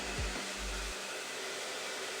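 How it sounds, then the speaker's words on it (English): A handheld blow dryer runs on its high heat setting while hair is styled with a round brush, giving a loud, steady, close whoosh of rushing air that lasts the whole moment with no talking. "I'm gonna turn this on high heat so that we get a nice swoop"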